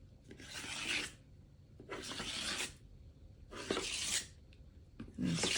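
A scraper drags wet paint off a studio surface in three or four separate rasping strokes with brief pauses between them, close and fairly quiet, with no talk.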